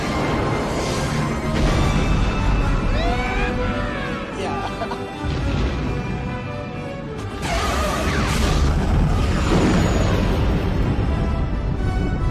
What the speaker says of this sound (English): the explosion of the Death Star, which gives dramatic conclusions to pervading battle of an action film